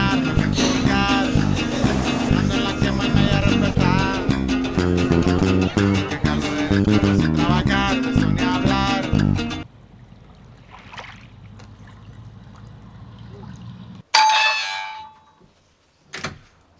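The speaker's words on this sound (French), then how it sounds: "Eh ben elle est super nulle la sonnette." Music plays loudly at first, then cuts off to near silence before a home doorbell gives a short, thin chime, followed by one more brief sound.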